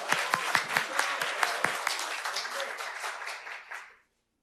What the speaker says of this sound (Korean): 큰 박수로 한번 환영해 주십시오